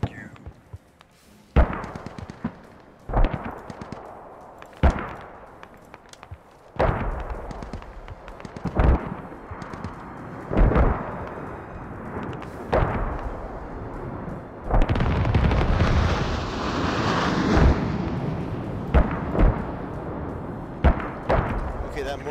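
In the video game Squad, set around Fallujah, mortar rounds fire and explode as a string of heavy booming blasts. Low rumbles fill the gaps, and a longer roaring barrage builds midway.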